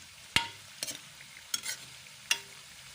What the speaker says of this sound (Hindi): ये चिकन को फ्राई कर लूँ,